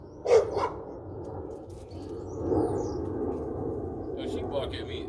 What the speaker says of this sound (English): she bark at me every time I yell at Caprice